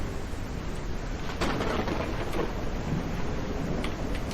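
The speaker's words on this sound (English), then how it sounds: "This storm came up fast." Thunderstorm in the zombie survival game Surroundead: steady rain hisses throughout while rolling thunder swells in a couple of bursts, with no voices.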